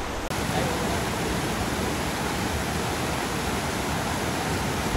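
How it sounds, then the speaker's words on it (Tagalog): A waterfall at Kibungan, Benguet, a dense, constant rushing roar of falling water filling every moment, close and loud with no break. "Mga around 30 minutes na galing tayo doon, ay nakarating na tayo dito sa may falls."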